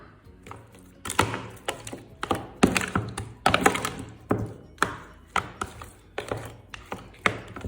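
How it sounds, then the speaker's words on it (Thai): Pork ribs being tossed and mixed by hand with marinade and sugar for microwave-baked ribs, a series of wet, irregular thumps and squelches repeating every half second or so, close and moderately loud with no talk. "เดี๋ยวเราจะ คลุกหมูกับส่วนผสมทั้งหมดเข้าด้วยกันเลยนะคะ"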